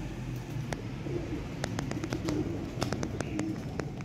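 A pair of rare pure pigeons, a male and a female, coo nearby in low, repeated throaty calls, broken by a few sharp clicks and faint outdoor background noise.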